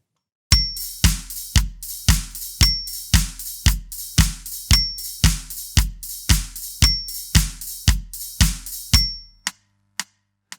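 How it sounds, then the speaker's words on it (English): A disco drum groove pounds along with steady kick hits and snare accents on beats two and four under sizzling hi-hats, played alone for about nine seconds before stopping with a few stray hits. "we end up with our main disco beat for the track"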